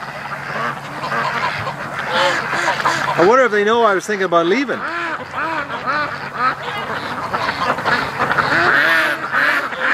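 Several ducks kept for charity quack loudly and repeatedly close by, with a rising burst of calls midway, while a person talks over them throughout.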